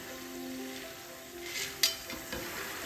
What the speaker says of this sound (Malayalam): നമ്മളെപ്പോഴും ഈ ചക്ക വറുക്കുമ്പോൾ എപ്പോഴും പപ്പടക്കോല കൊണ്ടാണ്